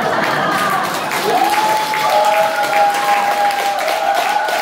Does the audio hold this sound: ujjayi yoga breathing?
no